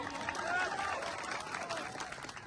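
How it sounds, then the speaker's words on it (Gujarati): An audience at a political rally claps for police officers, a steady moderate wash of applause with voices mixed in, fairly distant and lasting a few seconds. "અહીંયા જેટલા પણ પોલીસ અધિકારીઓ છે એમના માટે જોરદાર તાળીઓ પાડી લો"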